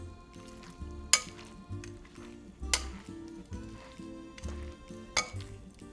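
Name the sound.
tongs spreading cornstarch over filet mignon strips in a pan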